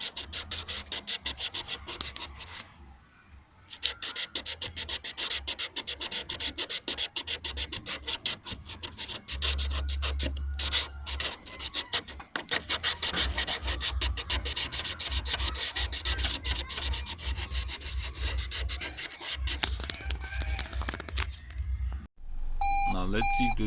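Steady scrubbing and rubbing on a hazy, blurry rear view car camera lens, a continuous close abrasive rasp lasting most of the time with brief pauses and a few beeps near the end.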